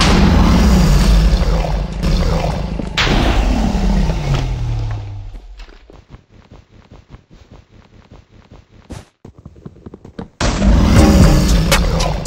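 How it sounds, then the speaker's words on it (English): A lightning strike bed destroy effect in Hypixel Bedwars bursts with a loud rumbling crash, followed by a crackling stretch of sharp snaps, then another heavy boom near the end. "In 4th place is lightning strike"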